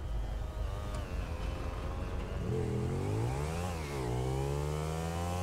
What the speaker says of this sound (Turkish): Bir dakika motora bineceğim arkadaşlar